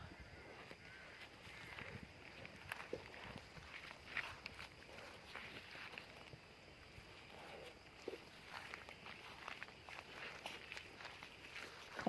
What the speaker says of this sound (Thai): มีตัวหนึ่งเดินตามครับ ตัวนี้เดินตาม